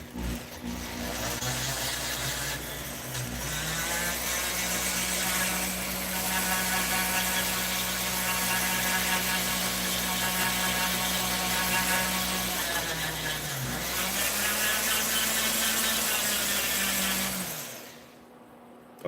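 A variable-speed rotary tool of the Dremel type runs at low speed while cutting into a diecast toy car, a steady buzzing whine whose pitch dips briefly twice as the bit bites into the metal.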